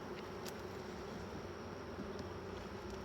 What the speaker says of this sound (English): the bees are flying again